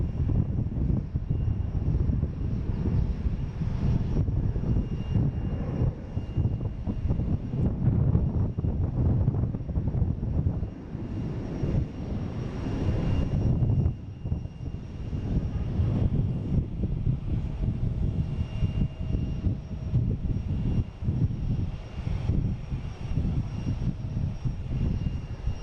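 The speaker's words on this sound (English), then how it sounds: "We have a JetBlue taking off to Orlando. A321, flight" A JetBlue Airbus A321 jet takes off, its engines giving a sustained, rumbling roar with gusts of wind buffeting the microphone throughout.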